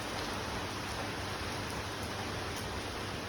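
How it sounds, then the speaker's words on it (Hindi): Heavy rain pouring steadily, a dense even hiss filling the whole stretch, close and constant with no voices. "तो देखो केते जोर वर्षा हो पूरा ये"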